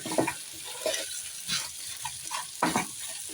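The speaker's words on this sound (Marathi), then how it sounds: "व्यवस्थित परतून घेऊया।" Spring roll vegetable filling stir-fried in a pan, a steady sizzle broken by repeated scraping strokes of a spatula at an uneven rhythm, close and clear with no talk.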